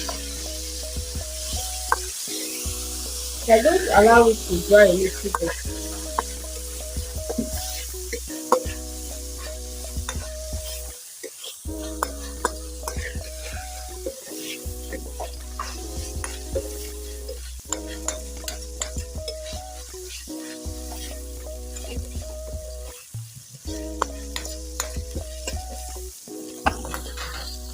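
Meat with onions in oil sizzles in a pan under repeated stirring and scraping, with a brief clatter early on and a short remark from a voice over the cooking.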